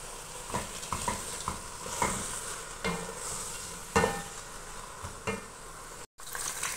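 Onions fry in oil in a pot with potatoes and garlic, giving a quiet, continuous sizzle punctuated by irregular scrapes and taps of a spoon stirring against metal.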